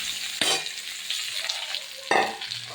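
Vegetables with pointed gourd and soya chunks sizzling and frying in a hot pan, with sharp bursts as food is stirred and tossed, close and busy, no talking.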